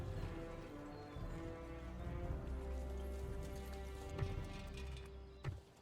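Horse archer cavalry in Medieval 2 Total War, with hooves clip-clopping steadily under a busy game soundscape, a soft neigh now and then and a sharper thump near the end.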